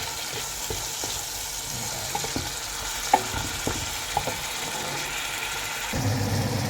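Chicken fries in a pan with a steady soft sizzle, broken by a few light taps and clinks of stirring, close and moderately quiet.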